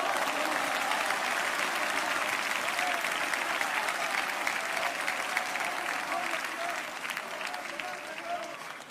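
Congregation at an evangelical church service applauding together, a steady, dense wash of many hands clapping at full volume from start to finish, easing slightly toward the end, with voices mixed into the crowd.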